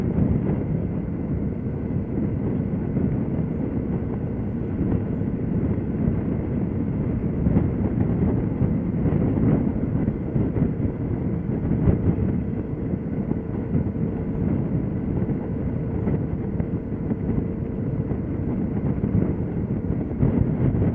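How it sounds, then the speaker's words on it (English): Wind roars and buffets steadily against a motorcycle windshield at freeway speed, a dense, continuous rushing noise that stays loud and unbroken, with no voices. "It's a bit distracting with the shield shaking in the wind though."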